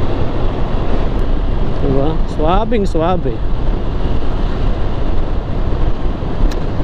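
A motorcycle cruises along an open road, with heavy, steady wind rush and engine roar that never let up. Someone talks briefly over it partway through.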